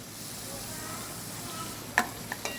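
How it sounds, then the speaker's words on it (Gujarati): Carrots, peas, cauliflower and potatoes fry in oil with a steady soft sizzle, followed near the end by a few sharp spoon clicks against the pan as they are stirred. "પનીર અને કેપ્સિકમ સિવાયની બધી જ શાકભાજી આપણે અત્યારે મૂકી દીધા છે તેલમાં"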